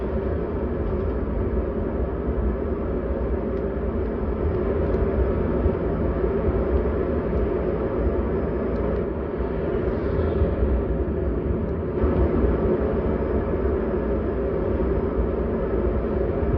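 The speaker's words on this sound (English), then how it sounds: "zip around on a jet" Jet engine in GTA V during flight, a constant broad roaring drone that stays steady and loud throughout with no speech over it.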